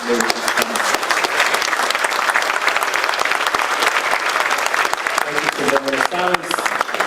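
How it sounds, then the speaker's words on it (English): Sustained applause fills a banquet hall at a police appreciation dinner honoring an officer, dense and steady clapping from a large crowd with some voices mixed in near the end. "Please give a round of applause for Officer Murphy"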